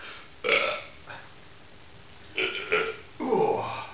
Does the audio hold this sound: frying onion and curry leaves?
no